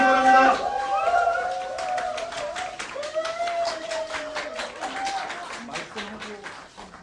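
An audience at a political rally in Dongjak, Seoul claps along loudly behind an announcer's voice, the applause thinning out toward the end.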